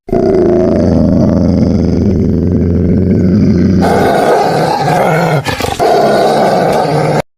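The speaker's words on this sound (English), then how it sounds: "A low growl rumbled through the dungeon. It was deep, feral, and approaching fast." A low, feral growl from red wolves rumbles loud and close, a sustained deep snarl that shifts midway into rougher, breathier roaring with brief rasping breaks.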